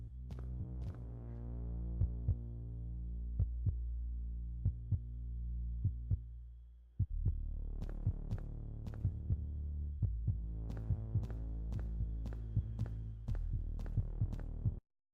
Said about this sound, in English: and the human heartbeat.